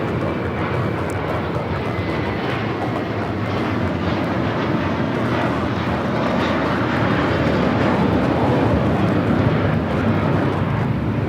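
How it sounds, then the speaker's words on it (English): An American Airlines Airbus A321 taking off at Los Angeles airport, a loud continuous jet engine roar that builds gradually and stays strong for the whole stretch, with no voices over it. "This is American Airlines 238 taking off to JFK on the A321."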